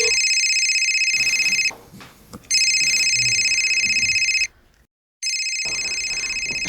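A telephone rings on and on unanswered in a tense family drama, its loud electronic tone bursting in repeated steady blocks separated by brief gaps, with no one picking up and no voices over it.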